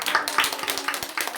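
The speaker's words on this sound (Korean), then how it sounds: "너무나 힘차게 박수" Congregation clapping in a church during a Christmas service, a quick run of sharp, irregular claps that carries on steadily and fairly close, with no voices over it.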